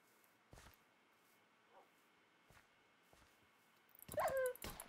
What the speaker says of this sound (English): This dog could be of annoyance.